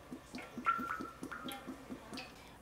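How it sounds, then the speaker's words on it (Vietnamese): Cooking oil poured from a bottle into a pan for frying tofu, a faint series of rhythmic glugging gulps as air bubbles through the bottle neck, heard close and alone. "Cho dầu vô."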